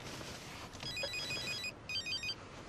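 A telephone rings in short trilling bursts, a run of rapid electronic warbles followed by a brief pause and a second run, steady and moderately near over faint background hum.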